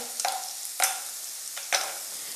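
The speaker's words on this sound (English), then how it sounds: "And this has to saute for some time. Okay. And let this sizzle along" Food sautéing in a pan for a cookery show sizzles steadily, broken by three sharp stirring scrapes at regular intervals; no voices.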